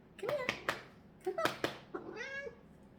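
A pet cat in Morocco meows several times up close, the calls coming in short separate bursts and ending with one longer, rising-then-falling meow, with no other sound around it.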